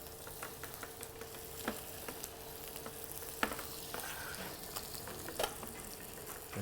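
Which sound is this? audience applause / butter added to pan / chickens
butter added to pan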